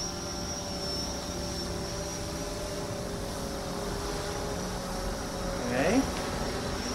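A DJI Phantom 4 drone flies in cruise mode, its steady high-pitched whine of buzzing rotors sustained throughout. A brief voice comes in near the end.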